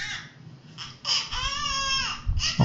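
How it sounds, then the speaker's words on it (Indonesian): An infant cries through a ROG Delta S gaming headset microphone in a couple of loud, close wailing bursts with short gaps between them, plus some low background rumble. "termasuk suara tangisan bayinya"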